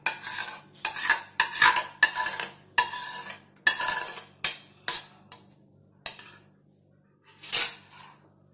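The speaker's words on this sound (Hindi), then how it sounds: "इसी पैन में हम आम की प्यूरी डालेंगे।" Mango puree going into a pan for mango coconut barfi, followed by a run of sharp metal spoon scrapes and knocks against the pan in an uneven rhythm that thins out toward the end, quiet and close, without speech.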